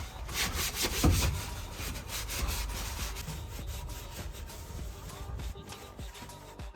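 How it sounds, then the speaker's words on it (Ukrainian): A cloth rubs and wipes over bare VAZ car body panels during degreasing, making repeated scrubbing strokes at close range with a brief knock near the start. "Так, тепер хорошенечко це все обезжирюємо детально."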